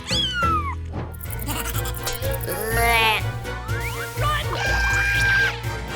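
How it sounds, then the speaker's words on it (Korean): A cat meows repeatedly in rising and falling calls over a busy, layered background of music and effects, fairly loud and close. "아, 내 고양이."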